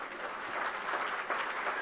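Audience applause in a hall at a community gathering, a steady dense wash of clapping that holds for about two seconds at moderate level, with no voices standing out.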